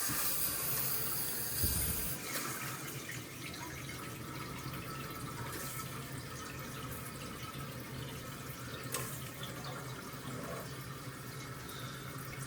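Water rushes through a toilet supply line as the valve is turned back on during a Luxe Neo 120 bidet install, a steady close hiss and flow with a brief knock near the start.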